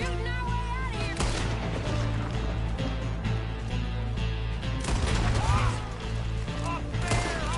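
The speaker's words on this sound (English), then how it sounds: "We're shooting our way out of here." A gunfire shootout in Red Dead Redemption 2: rapid volleys of shots crack over layered game noise and music, with voices talking throughout.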